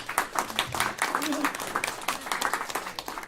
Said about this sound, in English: Can we just give Teresa a round of applause?